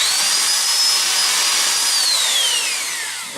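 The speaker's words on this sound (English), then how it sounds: "And I drill." A power drill with a masonry bit boring into a concrete block wall, giving a steady high-pitched whine that holds and then drops in pitch as it winds down. The sound is close and loud, with no voices.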